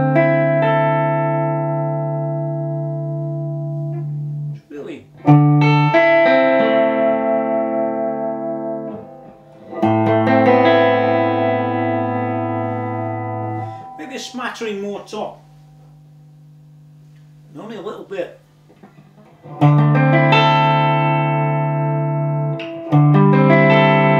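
Clean electric guitar chords through a Mesa Boogie Electra Dyne amp's clean channel ring out with lush reverb tails, strummed in several phrases with pauses between them.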